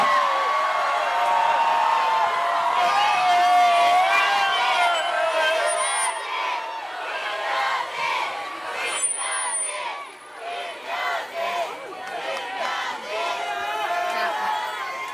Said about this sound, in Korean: 힘찬 박수로 모시도록 하겠습니다